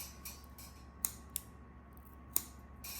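Scissors snip the cord of a cellular window blind during a repair, a few quiet, crisp clicks spaced irregularly in a hushed room.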